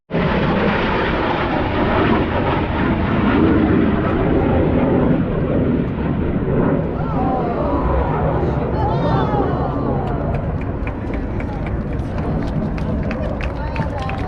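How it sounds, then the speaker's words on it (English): Blue Angels solo jets flying opposing minimum radius turns at an air show at Pensacola NAS, a continuous loud roar of jet engines with crowd noise, sustained throughout and swelling slightly as the aircraft pass. "This maneuver is going to be opposing minimum radius turns"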